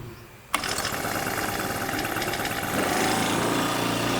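An automatic rice transplanter's engine kicks on abruptly after a quiet moment, then runs in a steady buzzing drone that grows a little louder partway through.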